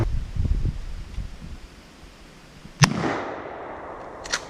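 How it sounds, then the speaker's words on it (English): A 12 gauge shotgun fires two sharp shots outdoors, the first followed by a long fading echo and the second a few seconds later, with faint rustling between them. "today when we shoot, we're gonna just be using the 12 gauge shotgun"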